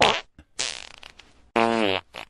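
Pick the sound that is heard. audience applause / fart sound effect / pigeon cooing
fart sound effect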